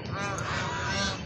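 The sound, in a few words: goose honking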